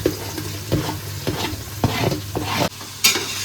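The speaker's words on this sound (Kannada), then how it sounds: "ಈಗ ಹಸಿಮೆಣಸಿನ್ಕಾಯಿ ಹಾಕೋತಾ ಇದ್ದೀನಿ." Green chilies frying in oil in a pan at home, a steady close sizzle broken by several scraping stirs of a spoon, each stir bringing a brief louder burst, with no talking.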